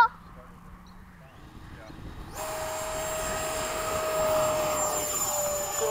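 Model airplane engine in the FMS flight simulator spools up into a steady, rising drone with a sustained whine, getting louder as the plane takes off, with faint talk early on.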